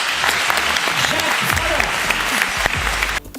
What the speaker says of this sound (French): Je vous demande d'applaudir très très très fort Jacques Fradin